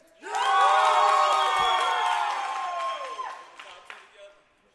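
A crowd cheering loudly for a team at a company event, a burst of shouts and whoops that swells quickly, holds for a few seconds, then fades into scattered voices.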